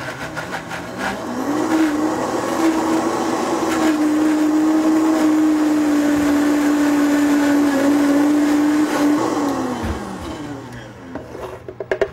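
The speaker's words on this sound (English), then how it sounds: "we're going to take half of it and blend it" A blender whirs up to a loud, steady whine blending quince cranberry jam, runs continuously for several seconds, then winds down, with a few clicks afterward.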